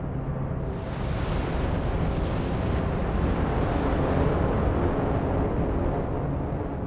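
The 1883 Krakatoa volcanic eruption rendered as a huge, sustained roaring blast, a dense rumbling wall of noise that swells after a brief opening and rolls on without pause.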